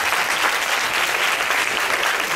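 An audience at a singing competition claps in sustained, even applause, a dense loud patter of many hands with no voices standing out.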